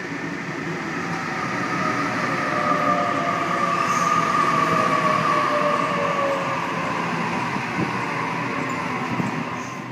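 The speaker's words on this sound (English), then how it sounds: "This train came from Epping." A Sydney suburban electric train at Pennant Hills station, arriving from Epping: a steady, close rumble of wheels and traction motors carries on throughout, with faint wheel squeal rising and falling over it.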